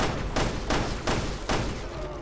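Pistol fire in Resident Evil Revelations 2 Raid Mode: four loud, evenly spaced shots roughly every 0.35 seconds over a dense, busy game soundscape, with no talk.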